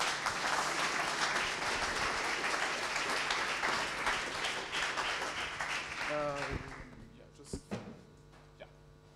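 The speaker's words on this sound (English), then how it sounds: "Another round of applause" Audience applause at a tech conference, a steady crowd of clapping that thins out near the end, giving way to a few scattered claps and faint stage noise.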